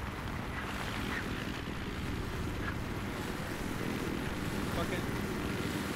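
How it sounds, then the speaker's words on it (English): A helicopter drones overhead in a steady, fairly loud rotor-and-engine wash that runs throughout, with a voice briefly cutting in over it. "Chopper, dude. Chopper."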